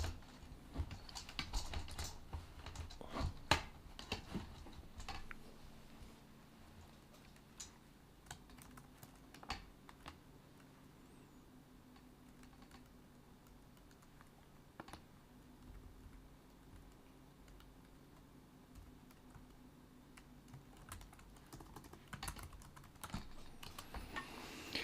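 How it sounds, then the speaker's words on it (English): Computer keyboard typing throughout, a steady patter of close, fairly quiet key clicks with denser bursts near the start and end, no voices. "The keyboard made noises."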